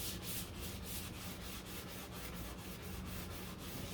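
A soft block is rubbed by hand over filler on the deck lid of a 1969 C3 Corvette, giving a rhythmic back-and-forth sanding scrape of about three strokes per second, close and steady.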